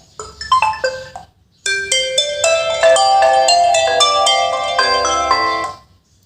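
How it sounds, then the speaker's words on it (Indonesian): A Realme C11 phone plays an alarm ringtone close up. A few short plucked notes come first, then after a brief pause a fuller melodic chime rings out and fades away, with no voices. "Kemudian ada deringnya"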